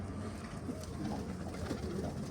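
Arab Çapar pigeons coo softly at a distance, a low, rolling, repeated call over faint background noise.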